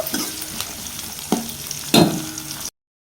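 Ingredients frying and being stirred in oil for mirchi bajji curry, a steady sizzle broken by a few sharp spoon scrapes and knocks against the pan, close and clear, then sudden silence.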